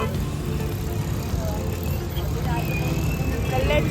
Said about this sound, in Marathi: कल्याणमध्ये ट्रॅफिक आहे गाईज.